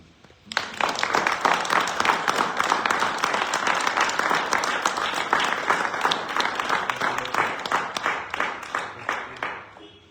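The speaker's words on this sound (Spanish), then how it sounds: "Denle un aplauso." A church congregation at an apostolic gathering claps after a call to applaud. The clapping starts sharply half a second in and holds as a full, crackling burst of many hands for about ten seconds.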